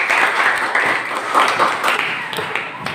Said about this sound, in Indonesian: Silakan berikan aplaus buat teman.